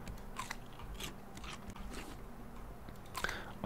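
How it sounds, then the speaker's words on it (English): Watermelon being eaten in the survival game Raft, a series of soft wet bites and crunches spaced irregularly over a quiet background, close and faint, with no talk. "Let's chew on some of this watermelon."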